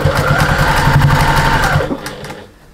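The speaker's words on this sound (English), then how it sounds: "we're stitching around the top part of the box" A sewing machine stitches around the top of a fabric box for an armchair sewing caddy, giving a close, steady rhythmic whir that runs for nearly two seconds and then stops abruptly, leaving quiet room tone.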